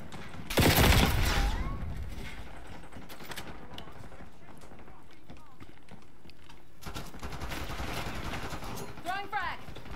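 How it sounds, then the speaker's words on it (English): Gunfire bursts in the video game Call of Duty: Black Ops 6, a heavy volley early on, then scattered shots and game effects, with a player talking over the action. "Stop shooting me."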